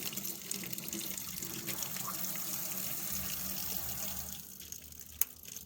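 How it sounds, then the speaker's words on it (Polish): Hot water runs steadily from a faucet fed by an instantaneous water heater, in a constant hissing gush, close by and fairly loud, with no voices over it. "No i już w tym momencie leci gorąca woda"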